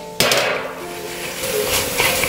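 A lid is lifted off a pot of simmering soya chunk roast with one sharp, loud metallic clank, followed by a softer rattle and low cooking noise. No one speaks.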